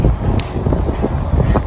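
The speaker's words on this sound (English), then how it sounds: "yeah, it's quite windy" Strong wind buffets the microphone on a blustery day, a constant loud roar with gusty rushes and bumps, no voices.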